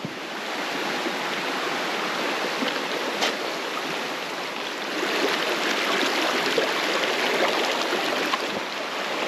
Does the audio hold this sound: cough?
no